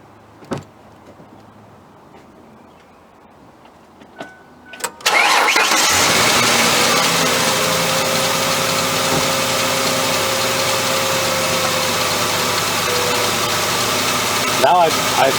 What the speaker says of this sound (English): I'll start up the vehicle